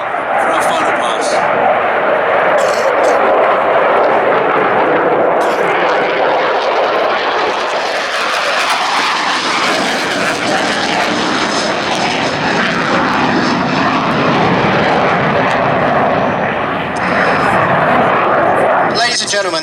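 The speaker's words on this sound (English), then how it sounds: "that was the 2017 Royal Air Force Typhoon display" A Royal Air Force Typhoon fighter jet roars through a low final display pass at an air festival, a loud sustained engine rush that swells and shifts pitch as it passes, with a commentator's voice over it.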